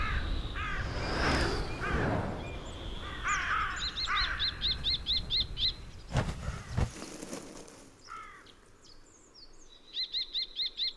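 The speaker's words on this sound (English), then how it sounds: "is repeatedly assaulted by a common kestrel and a carrion crow, which also nest on the cliff" Carrion crow caws ring out by an alpine cliff with stone pine, several harsh calls early on and mixed with quicker repeated bird chirps and a brief rustling burst, fairly close and clear.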